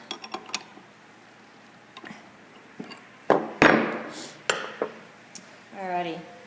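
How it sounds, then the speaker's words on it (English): A spanner tightens a router bit on a Vermec CNC router, with scattered close metallic taps and clanks, a brief louder ratcheting scrape mid-way, and a voice speaking briefly near the end. "now I can properly get the spanner on to tighten it"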